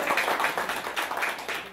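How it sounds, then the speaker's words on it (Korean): A gathered audience claps in welcome as senior-citizen association chairs are introduced at a community event. The brief burst of fairly close, quick rhythmic clapping has its claps falling in rapid succession. "큰 박수, 환영의 박수 부탁드립니다"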